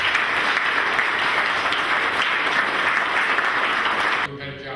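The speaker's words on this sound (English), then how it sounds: "Give these folks a round of applause." Audience applause at a community health initiative event, a sustained wash of clapping from a crowd, fairly loud and even, cutting off abruptly near the end as a voice begins.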